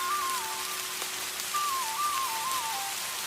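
Steady rain falls over a village, a dense even hiss with no break and a faint tonal whistle drifting over it.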